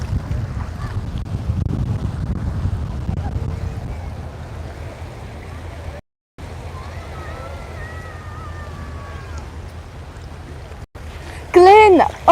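Strong afternoon wind buffets the microphone at the seaside in Alcudia, Mallorca, a loud low rumbling roar that surges heavily at first, then eases, with a few sudden dropouts and a brief voice near the end.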